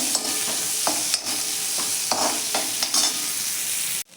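Capsicum and onion are stir-fried in oil. A bright sizzle is broken by rhythmic scrapes of a spatula against the pan every half second or so, and then it stops abruptly.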